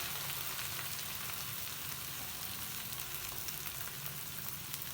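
About 1.25 kg of beef brisket sizzles with light-browned onions in a kadai, a dense, continuous hiss of frying that stays even and close throughout with no voices.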